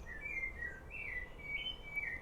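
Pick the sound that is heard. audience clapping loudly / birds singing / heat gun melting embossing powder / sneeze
birds singing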